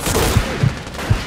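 Gunfire in the video game Mafia II, a few dull muffled shots spaced about every half second over steady background noise, with no talk.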